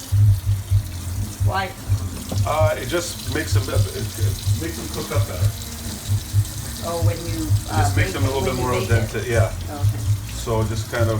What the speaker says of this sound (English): then you rinse cold water on the noodles